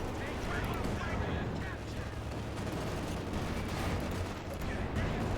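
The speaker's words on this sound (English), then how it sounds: "Veterinary 4 on the Panzer 4, 29 kills. Firing the APC-BC shells" Panzer IV firing APC-BC shells in Company of Heroes 2, a dense, continuous roar of gunfire and explosions in a battle soundscape, loud and unbroken throughout.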